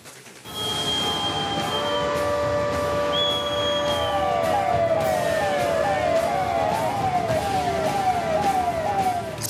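A civil defence siren wails loud and unbroken through a mock drill in Dharwad, its tone sweeping steadily up and down over a constant background roar.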